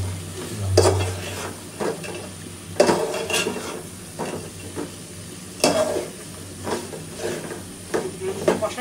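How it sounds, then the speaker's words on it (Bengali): Potatoes and vegetable stalks stir-fried in a pan, heard as a continuous sizzle broken by repeated metal clanks and scrapes of a spatula against the pan, with some speech in between. "আলু আর ডাটা দিয়ে একটু কষানি হতে হবে।"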